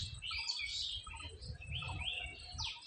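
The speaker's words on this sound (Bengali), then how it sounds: "তোমরা শুনতেই পাচ্ছ যে পাখির কিন্তু খুবই কিচিরমিচির ডাক" Several birds chirp and twitter in a pomelo tree heavy with fruit, with quick high tweets coming in short clusters over a quiet outdoor background.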